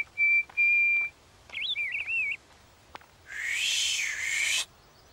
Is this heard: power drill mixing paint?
no